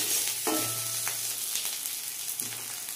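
Crushed ginger and garlic frying in hot oil, a crisp steady sizzle with a few scraping stirs of a spoon, close and alone without voices.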